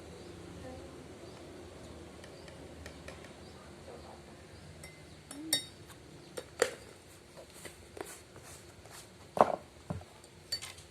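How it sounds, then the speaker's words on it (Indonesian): A spoon stirring coffee into plain water in a glass for a primary-school science experiment, faint scattered clinks against the glass that grow more frequent toward the end, over a quiet room hiss. "kita aduk sama seperti air gula tadi"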